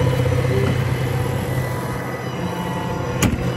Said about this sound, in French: Bon, en tout cas, il est plutôt silencieux, ce tracteur